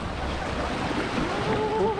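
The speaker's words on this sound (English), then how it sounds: "waves pummeled onto the rocks" Waves pound onto rocks along the shore near Cabo San Lucas, a continuous close roar of surf and wash with a faint tonal whine near the end.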